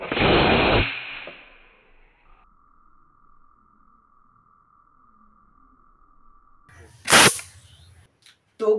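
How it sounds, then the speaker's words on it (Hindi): A homemade plastic bottle rocket is lit, a steady hiss follows, then it bursts with one sharp loud pop. "ये जो हमारा रॉकेट था, इसका जो यहाँ पर फट गया है"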